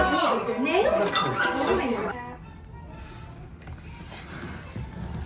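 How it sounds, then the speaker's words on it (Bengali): A plate clinks and scrapes against other dishes and cutlery at close range while people talk, followed by quieter handling and light rattling. "মাইক্রোওয়েভে ঢুকবে এই প্লেটটা"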